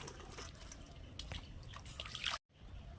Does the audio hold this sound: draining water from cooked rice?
yes